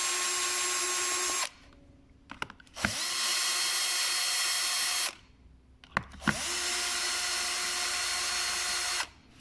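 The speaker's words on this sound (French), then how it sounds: "il faut dévisser, enlever les 4 vis qui se trouvent de chaque extrémité" A power screwdriver unscrews screws from a battery pack in three separate whirring runs of a few seconds each, close and loud, with short quiet gaps and small clicks between them.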